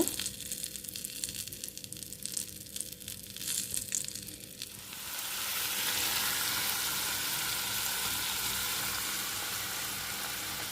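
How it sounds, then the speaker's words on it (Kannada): Masala for paneer mutter frying on a low flame, mixing and scraping at first, then a steady, even sizzle that rises and holds close up, without any speech. "ಮಸಾಲೆಯನ್ನು ಸೇರಿಸಿಕೊಂಡು ಒಂದು ಎರಡು ಮೂರು ನಿಮಿಷಗಳ ಕಾಲ ಅದನ್ನು ಚೆನ್ನಾಗಿ ಸಣ್ಣ ಉರಿಯಲ್ಲಿ ನಾವು ಹುರಿದುಕೊಳ್ಬೇಕು"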